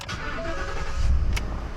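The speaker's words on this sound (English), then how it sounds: "So now should we start the car?" Car engine cranks and catches after key programming by a locksmith, a brief starter whir followed by a low rumbling turnover, close and loud, with no talk.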